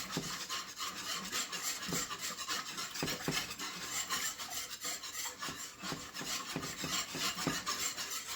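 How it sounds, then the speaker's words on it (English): A whisk stirring clumpy tomato paste in a pot, a steady scraping rasp with rhythmic strokes against the metal, continuous and close throughout. "the tomato paste is kind of clumpy, so usually I grab my whisk. Just try to mix it up in there"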